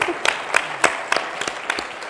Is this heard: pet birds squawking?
no